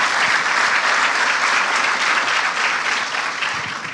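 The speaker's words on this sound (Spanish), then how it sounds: "voy a pedirles que le den un aplauso a este par de" A conference audience applauds steadily for a pair of discussion guests, dense sustained clapping filling the hall without voices on top, holding loud throughout before easing slightly at the end.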